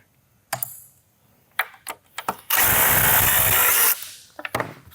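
A power tool works on dirty bolts on an aftercooler: a few sharp clicks and knocks, then a loud sustained burst of whirring for over a second, followed by more scattered taps as it is repositioned.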